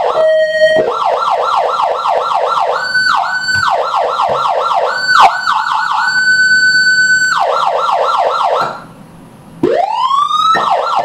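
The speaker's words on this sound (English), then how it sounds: "Pretty nice siren, I mean." Loud Federal Signal Interceptor electronic police siren cycling through several patterns: rapid wailing yelps, steady tones and a rising sweep, with a brief pause near the end. Close and alone.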